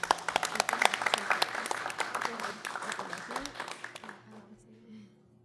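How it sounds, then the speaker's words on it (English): Scattered hands clap at a school board of education meeting, sharp individual claps that are loud at first, then thin out and fade away to near silence by the end. "We have to clap."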